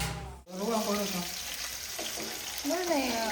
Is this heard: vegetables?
yes